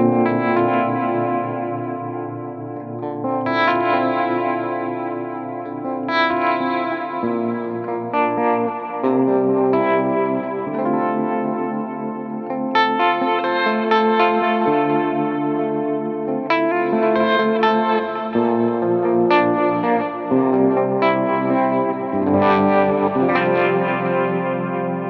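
Electric guitar through a Line 6 POD Go playing chords and melodic lines with a pulsing, wavering harmonic tremolo and delay repeats trailing each note, steady and loud throughout.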